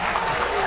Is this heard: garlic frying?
no